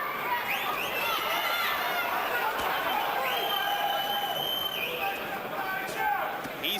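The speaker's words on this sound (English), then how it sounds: "And there are a fair number of Byrd rooters in the crowd" A boxing arena crowd roars and chatters in a dense, continuous wash of noise during a Vitali Klitschko vs Chris Byrd fight, with a commentator talking over it.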